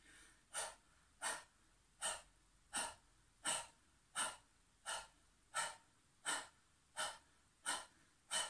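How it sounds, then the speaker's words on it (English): Breath of fire in kundalini yoga: rapid, forceful nasal exhalations like a panting dog, a dozen sharp evenly spaced puffs at a steady rhythm, close and fairly quiet, with no talking. "you can either start breath of fire straight away or start panting like a dog"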